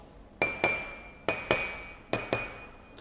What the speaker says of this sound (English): So, we have got 3 empty cups.